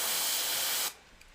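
An airbrush sprays paint onto a skull-and-gears design in a steady, close, hissing burst that stops sharply after about a second, leaving near silence.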